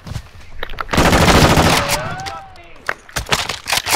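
Mounted machine gun firing in Call of Duty: Modern Warfare II, a dense sustained burst of close rapid shots lasting over a second, followed by scattered shots and a voice talking.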